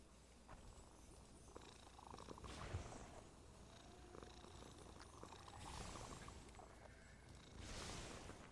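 A cat purrs quietly and continuously in a calm indoor room, a soft low rumble that rises and falls in faint waves with no talking.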